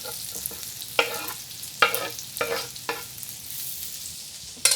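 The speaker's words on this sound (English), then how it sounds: "So this is where I add in my green onions and my mushrooms." Green onions and mushrooms frying in a pan, a steady close sizzle broken by several sharp bursts as the pan is stirred, with no voices.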